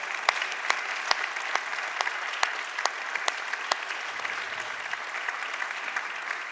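Audience applause for chefs at a green restaurant awards ceremony, a steady even wash of many hands clapping throughout, with no voices over it.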